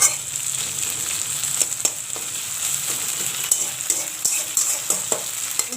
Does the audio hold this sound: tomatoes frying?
yes